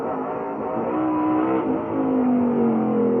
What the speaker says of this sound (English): Davy Jones there twirling and stopping